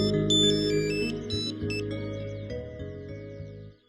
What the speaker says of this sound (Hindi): मिस्टर अग्रवाल को ही फोन ट्राई करता हूं